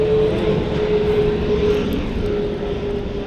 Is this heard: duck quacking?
no